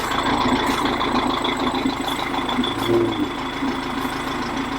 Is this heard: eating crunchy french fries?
no